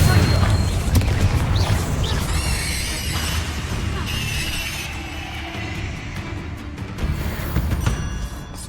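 In Hogwarts Legacy, a Confringo blasting spell explodes in a loud burst that shatters into crackling debris, then fades into a rumbling tail with game sounds layered over it.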